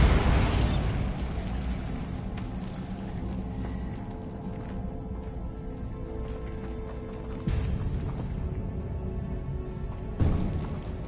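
A Bombarda spell explosion in Hogwarts Legacy bursts loudly at the start and then decays into a low rumble. Two further sharp impacts follow later, and the whole passage is fairly quiet overall.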